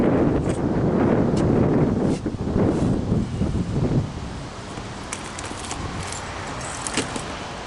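Strong wind blows hard against the microphone outdoors at a camp. It is loud and roaring for the first four seconds, then eases into a steadier, lighter rush, with a few faint knocks and rattles on top.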